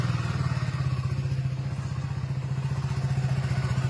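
A motorcycle engine, with its spark plug just tightened and parts of the bike still open, runs at a steady idle, its rapid even putter close and loud throughout.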